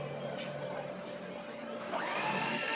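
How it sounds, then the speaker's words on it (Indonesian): An electric hand mixer whirs steadily through cake batter made with leftover egg whites, banana and milk, a close, continuous motor hum that rises slightly near the end. "Nih kita mixer aja ya"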